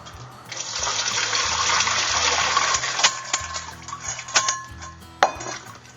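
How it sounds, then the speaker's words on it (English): Soaking water from a bowl of dandelions pours out into a kitchen sink, a loud, rushing splash that builds and then trails off, with a few sharp clanks of the bowl against the sink near the end. "and I'll have to pour it out in the sink"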